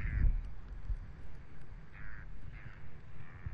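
A bird calls several times at a distance on St Brandon, harsh repeated calls spaced out over faint background noise.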